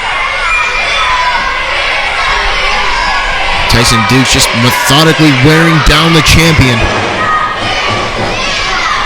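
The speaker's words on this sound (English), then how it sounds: "the crowd, though, is just relentless in chanting "Fear the Beard,"" Wrestling crowd at a Smash Wrestling match between Matt Cross and Tyson Dux chants in rhythmic bursts under continuous commentary, with the rowdy chanting swelling mid-way and cheering filling the room throughout.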